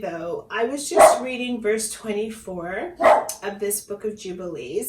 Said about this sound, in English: My apologies about the dog barking